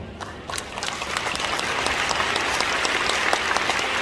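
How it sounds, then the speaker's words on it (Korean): A church congregation at a Gyeonggi united prayer meeting commemorating the Korean War applauds, a steady wash of many hands clapping that builds slightly and holds, heard alone without talk. "우리 한번 다시 한번 박수로 하나님께 영광 돌립니다"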